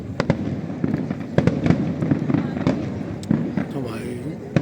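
Fireworks at the Jingu Gaien fireworks festival in Tokyo burst in a rapid string of sharp booms and crackles, some close together, while people talk nearby.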